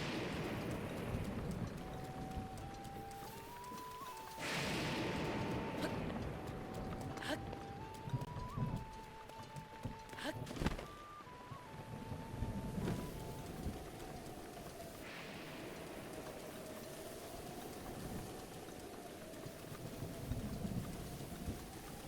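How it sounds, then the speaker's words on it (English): Steady rain falling in the Zelda Breath of the Wild game world, a constant hiss with scattered louder bursts, layered under sustained musical tones and faint game sounds. "And of course it's raining here too."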